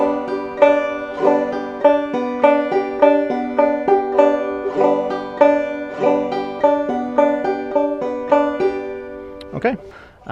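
Banjo played in the frailing strum with drop thumb, a steady even rhythm of plucked and brushed notes repeating in a slow practice pattern, close and clear with no talking.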